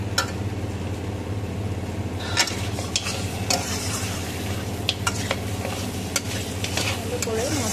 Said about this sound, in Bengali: মাটনের পিসগুলোকে দিয়ে দিয়েছি, এবার ভালো করে কষিয়ে নেব।